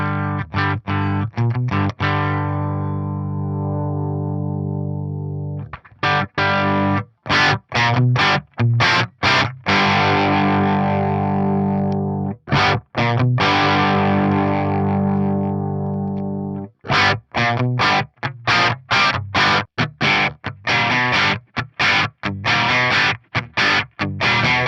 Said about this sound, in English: I can get a crunch sound out of channel 1.